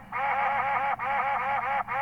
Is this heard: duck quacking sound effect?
yes